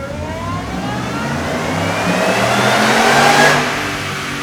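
A 2011-2014 Ford F-150 5.0L V8 with a Roush R2300 supercharger revs hard on a dyno, steadily climbing in pitch, loud and close, with a rising supercharger whine building before easing off near the end.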